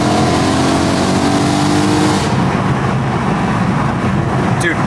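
A BMW E90 with a manual gearbox cruising along, the loud engine and road roar easing slightly after a couple of seconds, then a steady interior rumble with no clear talk.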